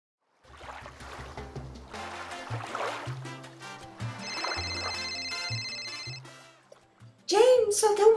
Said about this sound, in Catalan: el teu mòbil